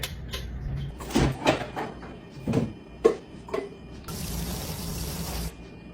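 Cabinet bumps and clunks, then a tap turns on and water runs steadily into a sink for a couple of seconds.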